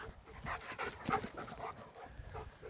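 A dog pants in quick, steady breaths close by in an abandoned vegetable garden, with faint background noise and no talking.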